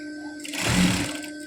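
A sewing machine stitches a pillow cover in one short burst, a quick mechanical whir that rises and fades within about a second, heard close.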